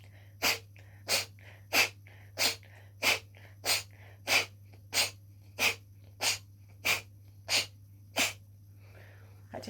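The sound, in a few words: Kapalabhati breathing, forceful exhales through the nose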